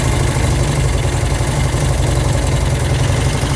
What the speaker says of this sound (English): we want to make sure that we have a nice idle like right now.